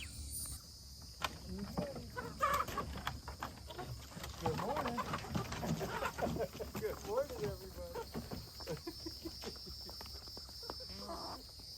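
Chickens in a backyard coop cluck and chatter steadily throughout, a busy flock heard up close, with faint insect and bird sounds in the background.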